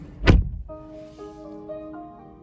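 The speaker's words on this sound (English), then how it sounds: "Door shuts nice and solid" The door of a 2021–2022 Kia K5 sedan shuts once with a single solid, low thunk close by. A soft electronic tone follows in the car's cabin.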